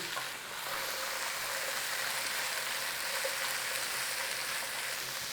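Onions and carrots for a minced beef pie filling sizzle steadily in a hot pan, a dense, even crackle that holds at a constant close level throughout with no voices.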